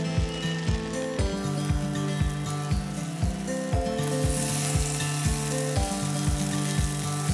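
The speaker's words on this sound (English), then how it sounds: "I'm just going to put them on the pan and make sure they group together." Grated potato hash browns fry in a hot pan, a constant bright sizzle running throughout with a regular series of sharp clicking ticks beating beneath it, close and fairly loud.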